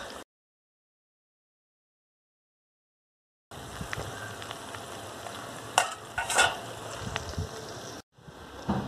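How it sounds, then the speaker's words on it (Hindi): Fish frying on a clay stove in a village kitchen, a steady crackling sizzle with occasional stirring clinks. It starts after several seconds of silence and cuts out briefly near the end. "ये यहाँ पे मेरी मछली फ्राई हो रही है"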